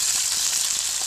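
Steak sizzles steadily in a hot pan just after being flipped, a continuous bright hiss of frying that stays fairly loud and even with no talking.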